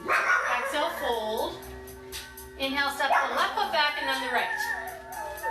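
A dog barks and yips repeatedly in a home during a Pilates class, several sharp barks and whimpers ringing out beneath a woman's steady spoken instructions.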